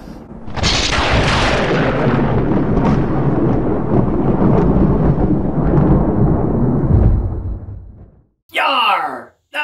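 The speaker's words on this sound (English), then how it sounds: "Yarr, there be a storm coming!" Thunder in a storm outdoors in a forest-school garden: a loud, long rolling rumble that starts abruptly, sustains for several seconds and fades, followed by a short burst of a voice.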